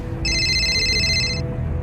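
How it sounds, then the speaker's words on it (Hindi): A mobile phone ringtone plays in a steady bright repeating electronic pattern for about a second, loud and close over a low background hum, then cuts off abruptly. "तभी मनन के फोन में रिंग बजती है।"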